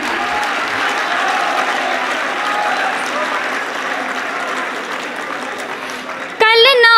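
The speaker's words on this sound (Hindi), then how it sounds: "जोरदार ताली।" An audience at a Hindi poetry recital applauds, with dense, steady clapping that carries on for several seconds before a voice cuts in over it.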